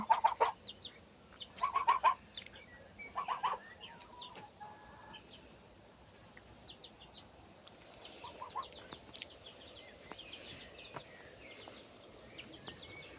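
Chickens with grown chicks in a backyard garden pen: a few bursts of clucking and chirps early on, then fainter scattered calls over quiet outdoor background.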